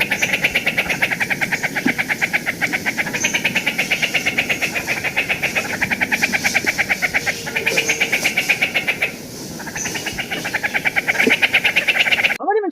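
An Elegant Trogon in the mountains of southeastern Arizona gives its alarm call, a rapid, continuous chattering of sharp repeated notes, loud and close, running steadily with a brief dip near the end.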